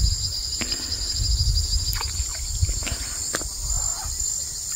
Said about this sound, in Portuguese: E todo esse zumbido, galera, que dá pra ouvir no vídeo, vinha desses matos que estavam atrás de mim.